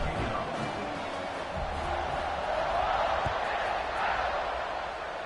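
A stadium crowd buzzes continuously in an NCAA college football video game, a dense, steady roar of many voices at moderate loudness, with no clear cheer peaks.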